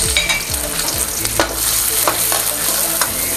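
Garlic sautés in a pan for beef pochero, giving a loud, close, continuous sizzle broken by repeated scraping stirs.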